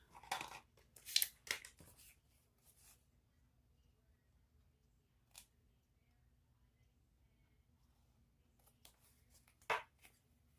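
Scissors snip through excess fabric on a sewn sling bag, a few quick close cuts bunched at the start, then isolated faint snips later, separated by near silence.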